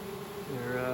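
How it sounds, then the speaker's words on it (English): A honeybee swarm beating its wings makes a dense, steady buzzing drone that swells slightly louder toward the end. "making lots of noise, flapping their wings"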